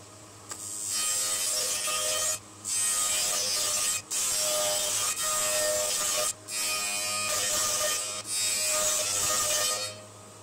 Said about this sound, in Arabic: سوف نقوم الآن بعملية الحفر بواسطة هذه الريشة التي سمكها 5 مليمتر